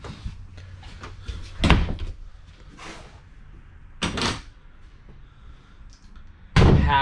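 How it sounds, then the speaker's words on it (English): Several thuds and knocks of a travel trailer toy hauler door, ending in one loud close, separated by quieter handling sounds in a small room. "I feel like you need to shut the door."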